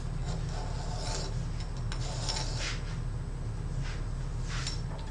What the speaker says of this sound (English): So if you want a seamless joint, you really want to file.